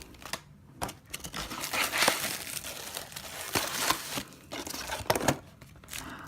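Packaging for a Bolt Action M3 Grant tank model kit is opened by hand, with steady close crinkling, tearing and rustling of card and plastic broken by sharp snaps and rips.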